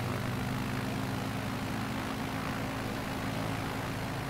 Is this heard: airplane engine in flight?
yes